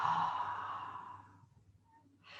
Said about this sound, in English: let's take a nice breath in through the nose and an exhale through the mouth